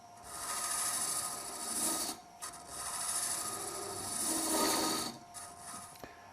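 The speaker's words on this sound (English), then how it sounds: "Approach the wood slowly and start to cut, moving from the centre out." A Robert Sorby Sovereign Ultima hollowing tool cuts wood on a lathe, making a continuous close scraping, rasping sound in long sustained passes with a couple of brief breaks.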